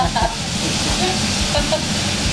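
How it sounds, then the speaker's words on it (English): A hot pan deglazed with Natty Light beer gives a loud, steady sizzle and hiss, close and continuous, with a voice talking over part of it. "We're going to deglaze it a little bit with beer."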